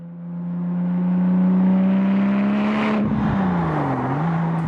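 A Porsche 996 Turbo fitted with a bespoke PPT exhaust system revs up from idle, the engine note climbing into a loud sustained drone, then dropping sharply and blipping again before settling, close and alone with no talk.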